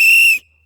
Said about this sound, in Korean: 호루라기